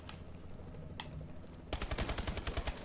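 Rapid gunfire from the video game Call of Duty: Advanced Warfare, a burst of about ten fast, punchy shots in the last second, after a stretch of quieter in-game background noise with a couple of faint, isolated cracks.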